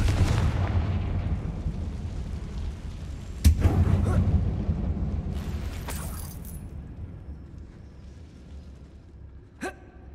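Fire spell explosion in the Hogwarts Legacy video game inside a closed mine, a loud booming blast with rumbling low end that decays over several seconds, followed by a few fainter sharp cracks.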